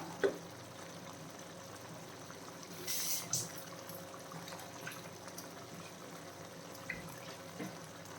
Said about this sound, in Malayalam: മിക്സിയുടെ ജാറിൽ ശകലം വെള്ളം ഒഴിച്ചിട്ട്